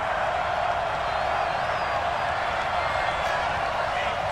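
A football stadium crowd roars steadily during a Steelers–Jets game ahead of a big third down late in the fourth quarter, with a dense, loud, continuous wash of noise from start to finish.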